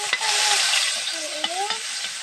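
Onion frying in a pan with browned garlic, a steady bright sizzle with light stirring scrapes throughout, close and continuous with faint voices behind.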